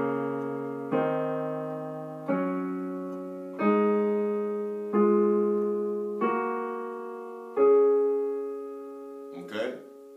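Piano plays a slow run of sustained chords in drop voicing, the middle note lowered an octave, seven evenly spaced chords each left to ring and decay, with a short clatter at the end.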